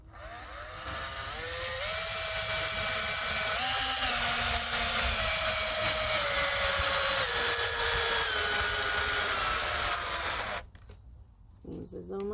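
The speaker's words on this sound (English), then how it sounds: "Seems as though my drill is starting to die." A dying cordless drill driving screws whines loudly for about ten seconds, its pitch sagging and wavering under load, then cuts out, leaving quieter handling noise.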